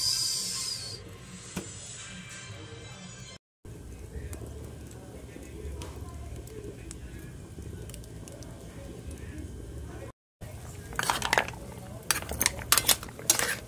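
Mussels sautéing in a pan give a steady low hiss, broken by clinks and clatter of utensils against cookware, with a voice talking over it.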